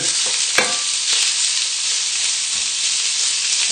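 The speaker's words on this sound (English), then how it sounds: "If you hear a nice sizzle, you know that it's hot enough. Now we just need to move this around the pan" Lamb pieces sizzle steadily in a hot pan, a loud continuous hiss with a sharp clink of the utensil early on and soft scraping as the meat is stirred around.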